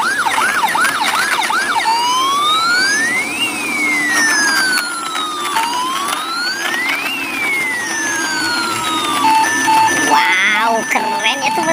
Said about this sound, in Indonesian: Nah, kita jalankan nih mobil ambulan.